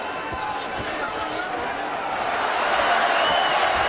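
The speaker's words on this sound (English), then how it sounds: "Crowd trying to lift Canelo back in forefront of the fight." Boxing arena crowd at the Alfonso Gomez versus Canelo Alvarez fight, a dense steady roar of cheering that swells louder toward the end, with no clear talk on top.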